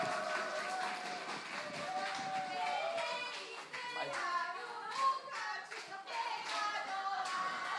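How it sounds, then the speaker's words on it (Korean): An audience claps at a church BT festival, a sustained patter of many hands with cheering and children's voices mixed in, moderately loud and continuous throughout. "박수 주세요"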